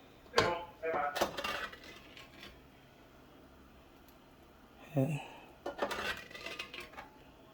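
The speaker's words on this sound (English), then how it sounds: "get my spoon and scoop out some more of this used grease" A metal spoon clinks and scrapes against a pan while scooping used grease for a roux, with a few sharp knocks early on, a pause, then another burst of clattering near the end.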